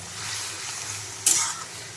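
Chopped medicinal greens frying in a pan hiss steadily while being stirred, and a sudden louder sizzle-scrape bursts out near the middle before settling back to a gentle crackle.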